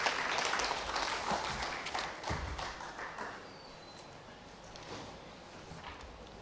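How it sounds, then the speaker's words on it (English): Audience applause at a lands directors' conference, a dense burst of clapping that starts strong and thins out over several seconds, fading to scattered claps. "A round of applause for Doctor."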